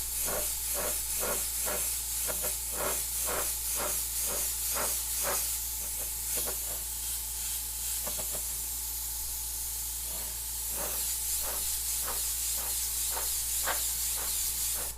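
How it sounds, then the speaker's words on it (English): Airbrush spraying orange paint over lowrider-style panels, a steady close hiss of compressed air that runs continuously, with a row of brief pulses and clicks breaking through as the trigger is worked. "I'm going to wash the orange over everything"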